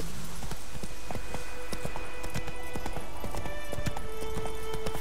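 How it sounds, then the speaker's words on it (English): In the Witcher 3 video game, horse hooves clip-clop at a steady trot through the whole stretch, loud and continuous over a dense ambient game soundscape, with no voices. "we're going to have to trot our way up there with the horse"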